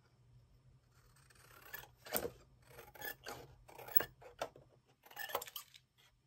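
Scissors trim craft supplies in a series of close, quiet cuts, each one a short crisp snip or slicing rasp, with a few gaps between bursts and no talking.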